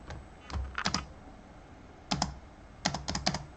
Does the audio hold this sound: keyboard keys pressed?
yes